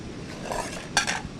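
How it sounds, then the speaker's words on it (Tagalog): A small camping pan and pot, probably not non-stick, are handled with a short metallic clatter near the end of the moment. Two quick clinks of cookware sound close by, with no talk. "Tapos meron pa siyang kaldero."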